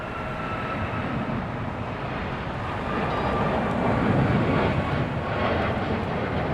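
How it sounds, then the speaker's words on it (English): Boeing 777-300 airliner taking off at LAX, a broad, continuous jet roar that swells slightly in the second half, heard from a distance with no talk over it. "Over there's a 777-300 taking off"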